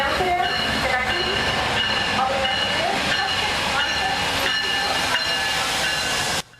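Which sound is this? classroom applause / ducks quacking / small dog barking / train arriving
train arriving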